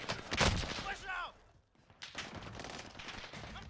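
Loud gunfire from a Mac-10 submachine gun in the Warzone video game, with bursts of rapid shots near the start and again later, broken by a short lull and mixed with a voice talking.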